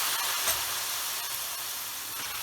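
A steady, broad hiss and sizzle as a glass of water is poured into a hot pan of fresh spinach with minced meat, loud and close, continuing without pause and with no talking.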